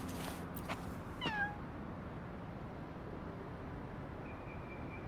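Cat in the video game Wuthering Waves gives a short rising meow, clear and close, over a quiet steady background hum, then a faint high tone follows.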